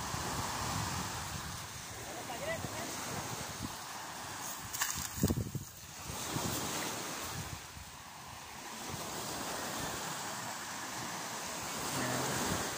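A big boat sailing on open water, with steady surf, wave wash and wind noise buffeting the microphone throughout, and a brief louder surge midway.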